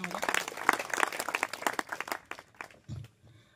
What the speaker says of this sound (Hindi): बच्चों के लिए एक बार तालियां हो जाए